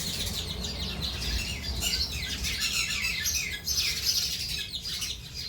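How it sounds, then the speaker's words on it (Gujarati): A busy chorus of sparrows, cuckoos and crows chirping and squawking together outdoors, continuous and fairly close, with overlapping calls and no talking. "ચકલી ને કોયલ ને કાગડાનો બધાનો ગણગણાટ"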